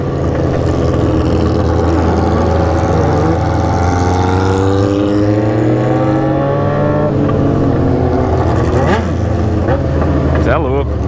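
A group of motorcycles, including a BMW S1000, riding together through São Paulo traffic: loud, close engines droning and rising in pitch as riders accelerate, with layered revving from several bikes at once and occasional wind buffeting.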